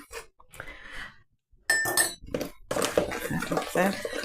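Clinks and scrapes of metal against a dish in a kitchen while residue is scraped off, coming in short irregular bursts, with a voice talking over them.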